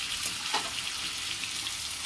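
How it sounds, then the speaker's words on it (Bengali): Broad steady sizzle of something frying in a pan over a low gas flame, a soft continuous hiss with a faint scrape or two, heard close and alone. "অল্প গ্যাসে এটাকে ভালো করে ভাজা ভাজা করতে হবে"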